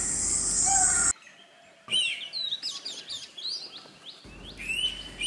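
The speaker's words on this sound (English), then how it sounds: "This is the painted sand grouse." Painted sandgrouse calling in the Belara buffer zone of Tadoba Andhari Tiger Reserve, a series of short, high chirping notes repeated over a few seconds against a faint background of insects and wind, fairly close and clear.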